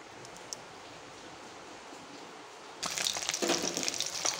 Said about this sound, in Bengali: দেখুন আমার ডিমগুলাকে আমি ভাজতে দিলাম